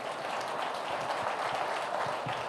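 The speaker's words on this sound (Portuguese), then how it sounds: "Eu queria que você aplaudisse pela vida do nosso pastor" Church congregation applauding their pastor, Pastor Ney, during a Sunday celebration service: a steady, dense wash of many hands clapping at once, even and sustained throughout with no voices standing out.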